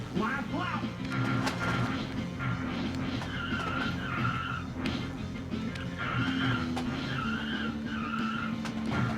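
Cars race and skid in the SNES video game Rock n' Roll Racing, with continuous engine drone, repeated tire squeals and crashes, loud and busy, with people talking over the game sound.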